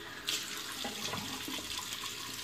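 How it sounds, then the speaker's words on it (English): Water runs steadily from a bathroom tap into a sink while someone splashes it onto their face during a shave, with a soft continuous hiss and small splashes. "Just putting some water on my face."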